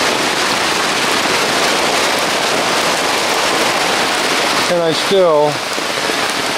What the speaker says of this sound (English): The rain's picked up a little bit, actually quite a bit, since I first came down here.